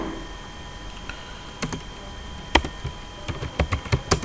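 Typing text on a computer keyboard: a few isolated key taps at first, then a quickening run of crisp, close clicks, with no talking.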